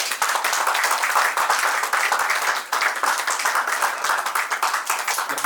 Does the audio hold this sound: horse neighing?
no